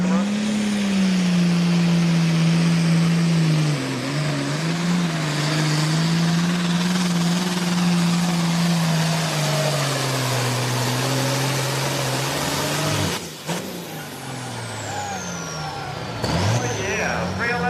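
A single-charger, intercooled light pro smoker drag racer revs loud and close on an exhibition run at a Millers Tavern, Virginia mini mayhem night, its engine tone rising and wavering before dropping off near the end.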